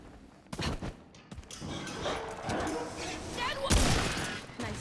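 Gunshots in the video game Remnant 2: a sharp crack followed by scattered bursts and thuds of firing across the stretch, mixed with voices talking.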